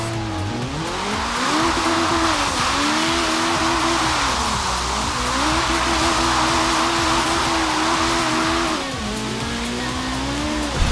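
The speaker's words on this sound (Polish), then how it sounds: "Mam Hondę, o, S800. Tylko problem jest taki, że pada deszcz, a ten samochód już jest hardkorowo zrobiony na drift." A Honda S800 set up for drifting runs on a rainy track in a racing video game, its engine droning and revving steadily with tire squeal, loud and continuous throughout with no talk.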